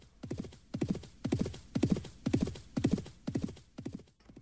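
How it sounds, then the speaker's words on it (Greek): Hooves of mounted gendarmerie horses clip-clop at a steady walking rhythm, about two beats a second, fairly close and clear, with no talk over them. "Προχώρησαν με τα άλογά τους προς τα εκεί."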